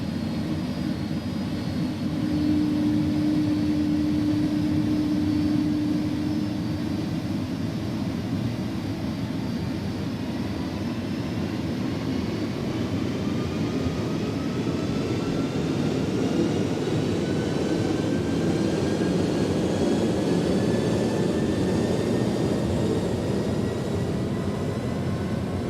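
Simulated iniBuilds A300 jet engines in X-Plane 11 spool up toward takeoff power, a steady broadband roar with a low hum and rising whining tones that climb gradually over the run, with no voices.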